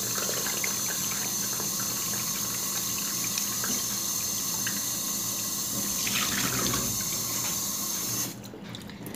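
Tap water running steadily into a sink while raw chicken gizzards are rinsed, a continuous close splashing flow with slight swells before the stream is shut off near the end.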